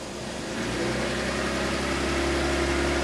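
A Jeep engine rises from idle as a little throttle is applied during a transmission test on a vehicle with a badly slipping clutch, giving a steady, droning, low hum that grows slightly louder and holds.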